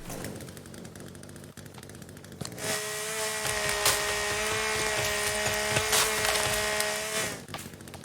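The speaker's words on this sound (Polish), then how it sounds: "może piłę wreszcie użyję" In the video game The Forest, a saw cuts into a tree, a sustained harsh buzzing whine of several seconds that starts abruptly and cuts off, with clicks and woody cracks before and after.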